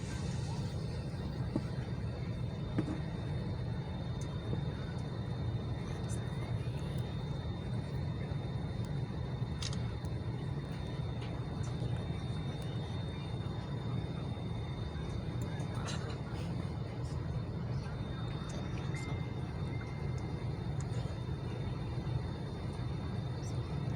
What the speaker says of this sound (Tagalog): Nasa loob na ako ng aeroplano na napagitna nga ako eh.